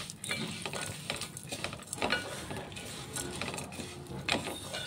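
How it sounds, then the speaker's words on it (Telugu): Dry-roasted ingredients tossed in ghee in a pan: a steady soft sizzle with repeated scraping and stirring clicks from a spoon, close and fairly quiet, with no talking. "జస్ట్ ఇప్పుడు గీ రోస్ట్ చేసుకుంటున్నాం"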